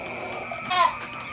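A young goat gives a short, high bleat on a backyard farm, heard once near the middle over a steady background hum.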